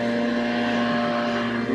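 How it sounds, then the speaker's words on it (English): A landscaper's leaf blower clearing grass off a sidewalk gives a steady, droning engine whine with a strong constant hum, loud and unbroken throughout. "The landscaper here is cleaning the grass off of my sidewalk with his blower."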